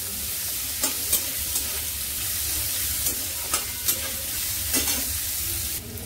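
Carrots and onion stir-fry in a hot pan, giving a continuous sizzle and hiss broken by several sharp clinks and scrapes of a spatula stirring at an uneven rhythm.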